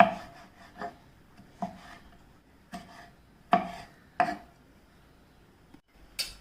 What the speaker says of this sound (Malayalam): ആ തക്കാളി ഫുള്ളായിട്ട് ഞാനിതുപോലെ ചെറുതായിട്ടൊന്ന് അരിഞ്ഞെടുക്കുകയാണ്.